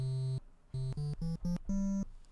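A Magical8bitplug2 chiptune synth plays triangle-wave notes: a few soft, hollow, low tones stepping upward in pitch with short gaps between them, quiet and alone.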